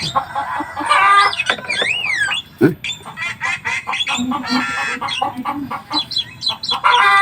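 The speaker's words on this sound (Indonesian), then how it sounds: "Ayam." Chickens cluck and squawk repeatedly nearby, with a rooster-like call mixed in and voices talking in the background.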